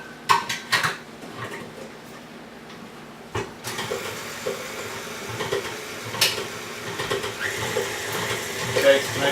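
A spatula beats sour cream marble loaf batter in a bowl, producing repeated close scraping and knocking against the bowl in an uneven rhythm, with a few sharper clanks.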